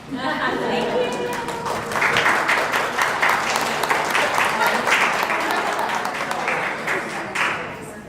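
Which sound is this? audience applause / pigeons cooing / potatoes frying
audience applause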